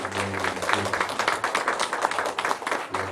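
A church congregation at a Sunday morning service applauding to welcome visiting missionaries: dense, rapid clapping from many hands filling the room at moderate loudness, rising and falling slightly without pause.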